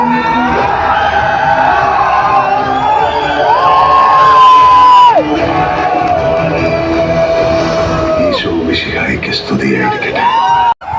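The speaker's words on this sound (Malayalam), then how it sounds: "അതിഗംഭീരമായ കയ്യടികളോടുകൂടിയാണ് ആൾക്കാർ വരവേക്കുന്നത്" A cinema audience at an Empuraan fan show cheers, whoops and shouts in a loud, continuous roar, with film music or tones sounding through the crowd noise.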